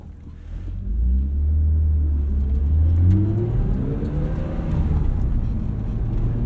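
A 1995 BMW E36 M3 Lightweight engine pulls loud and steady while driving, a deep low rumble rising in pitch through revs with rising harmonic sweeps, continuous and close with no talking.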